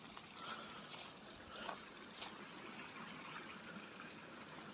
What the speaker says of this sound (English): What's that noise? I thought it was a tractor. It's the brook.